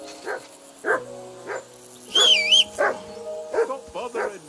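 A dog in Kingdom Come Deliverance 2 barks in a run of sharp, separate woofs spaced about half a second to a second apart, close and fairly loud, with a brief higher whine in the middle.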